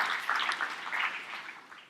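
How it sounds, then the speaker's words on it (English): Brief, moderate applause from a small audience, a short patter of clapping that tapers off quickly. "Give them a round of applause."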